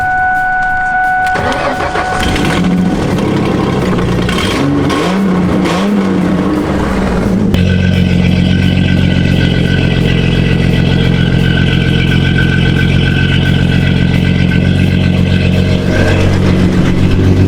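A V6 Ford Mustang left sitting unused for a year cranks and catches, then settles into a loud, steady, rumbling idle and revs close up, with a leaky exhaust adding to the rough drone.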